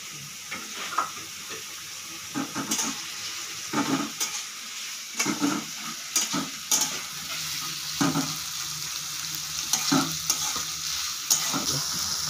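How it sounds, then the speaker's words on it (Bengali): Peanuts fry together with onions in a pan, a constant soft sizzle broken by repeated stirring scrapes and clinks at an irregular pace, heard close up with no talking. "এই বাদামটা আমি পেঁয়াজের সাথে ভেজে নেব"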